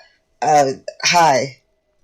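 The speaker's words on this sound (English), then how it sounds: "he's gonna clear his throat" Man clearing his throat during a tabletop role-playing session, two close voiced rasping bursts in quick succession, the second longer, followed by quiet.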